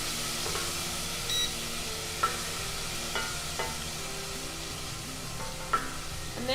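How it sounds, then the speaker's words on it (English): Ginger and garlic sizzle steadily in a hot pan while a spoon stirs them, with soft scraping clicks recurring every second or so over the constant frying hiss, close and fairly quiet. "And you're just gonna wanna give this a little stir with a spoon or a spatula"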